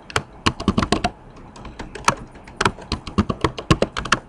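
Password typed on a computer keyboard, a close series of crisp key taps in two quick bursts separated by a short pause, with no talk.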